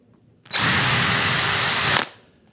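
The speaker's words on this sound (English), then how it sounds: "So that's the reason I'm drilling" A power drill bores a pilot hole into wood, a single steady high whine lasting about a second and a half, close and loud, starting and stopping abruptly.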